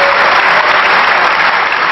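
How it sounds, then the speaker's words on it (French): Loud, sustained applause fills a European Parliament chamber, a dense even wash of clapping from many hands that holds steady throughout without any speech. "Des propos que Nigel Farage salue en applaudissant avec insistance"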